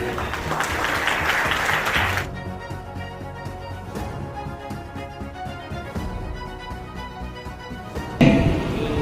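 Applause from an audience at the launch of the book 'Siyasat ka Durwesh' in Bhiwandi. A dense burst of clapping opens, then thins into scattered claps and thuds mixed with a tonal, ringing background, before a brief louder swell near the end.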